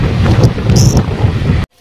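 Heavy rain with thunder pours during a festival-day family outing, a loud, dense rumbling wash of rain and thunder up close that fills the short stretch and then cuts off abruptly.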